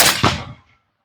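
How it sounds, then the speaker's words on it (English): A muffled suppressed 6mm ARC rifle shot is followed a split second later by a second dull impact thud of the bullet hitting ballistics gel, then quick fading decay. "Man, you can hear it hit that ballistics gel."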